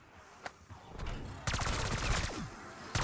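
Gunfire in Black Ops 6 Zombies as lights in the main room are shot out: quiet, scattered single cracks, then a denser burst of rapid shots and one last sharp report, with faint talking underneath.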